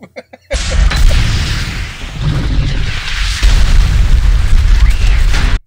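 A rocket launcher blast goes off inside a closed train car in a Resident Evil film. After a few faint clicks, a loud, sudden boom swells into a sustained, roaring rumble with debris noise.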